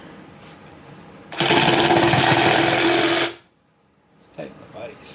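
A plasma cutter slices through metal brackets in a loud, harsh hissing burst lasting about two seconds, then cuts off. Faint talk follows afterward.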